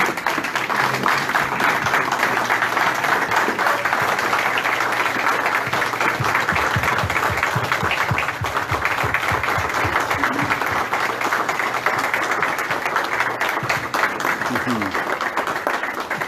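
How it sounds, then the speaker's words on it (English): Applause at a Rotary gathering honouring WWII veterans on the 75th anniversary of D-Day: a sustained, dense crowd clapping that runs the whole stretch at a steady level, with voices talking beneath it. "Let's give these guys a round of applause."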